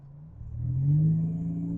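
A turbocharged Buick Grand National engine with a 3-inch exhaust idles with a low rumble, then revs up moderately, short of full throttle, and holds at a raised pitch, steady and fairly close.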